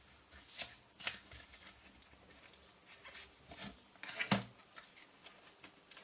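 Tarot cards being handled and drawn: soft, scattered rustles and quick flicks of card stock, quiet and close, with one sharper snap near the end and no talking.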